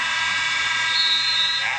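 A game-end buzzer sounds in an arena at an NBA Summer League game between the Los Angeles Lakers and Dallas Mavericks. It is a steady, fairly loud tone of about a second, set in constant crowd noise with commentary over it.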